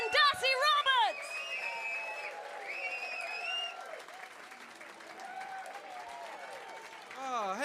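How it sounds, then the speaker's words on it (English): A comedy club audience applauds, whoops and cheers loudly as a comedian is welcomed to the stage, with a host's amplified voice over the noise. "start some clapping for me, please. Some clapping, some whooping, some cheering"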